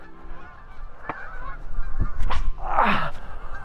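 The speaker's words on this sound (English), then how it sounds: "Geese on the horizon." Geese honking outdoors near a frisbee throwing spot, a few scattered honks building to a loud, harsh squawking call near the end.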